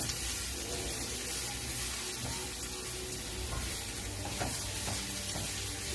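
A sauce mixture for flatbreads is stirred in a bowl, a close wet scraping and swishing over a steady background hiss, with no talking.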